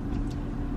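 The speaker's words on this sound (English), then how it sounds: "I'm gonna drive on the regular roads for y'all so that I can talk to you while I'm driving" A car cruises along regular roads, giving off a steady low engine and road rumble from inside the vehicle with no voices.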